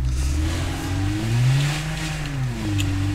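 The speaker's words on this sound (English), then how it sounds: "The engine noise is terrible" A car engine revs in the video game State of Decay 2, rising and falling in pitch as the vehicle drives. The whine is steady and close, with no talk over it.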